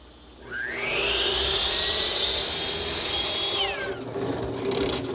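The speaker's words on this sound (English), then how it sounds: "I've set up the rip fence and the saw blade to make a rabbet" A table saw spins up and cuts a rabbet into square wood stock, its whine rising sharply to a loud sustained scream, then dropping as the blade clears the cut and winds down.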